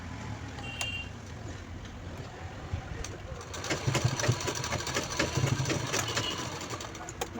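Sewing machine stitching folded fabric onto a purse zipper, a fast continuous whirring hum that builds and grows louder midway, running steadily with no voices.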